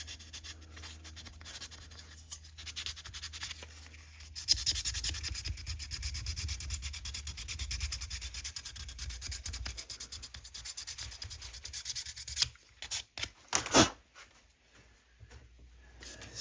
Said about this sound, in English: Sand and wipe.